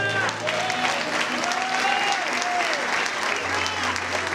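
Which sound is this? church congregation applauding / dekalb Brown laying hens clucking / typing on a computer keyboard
church congregation applauding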